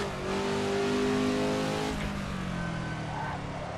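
A race car engine in the Assetto Corsa racing game revs hard and accelerates, loud and continuous, its pitch sweeping as it pulls through a corner with no talk over it.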